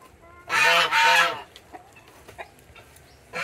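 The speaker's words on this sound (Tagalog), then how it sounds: "yung bulik na breed ng manok" Two loud, drawn-out squawking calls from a Bulik breed chicken in quick succession on a backyard farm, followed by quieter scattered clucks and small sounds nearby.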